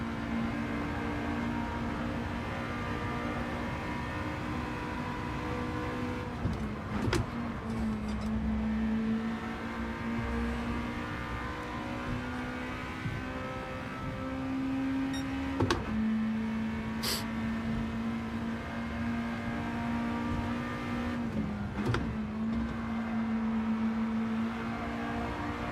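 Race car engine in Gran Turismo 7 droning steadily at high revs, with brief sharp shifts in pitch around downshifts and gear changes, loud and continuous throughout.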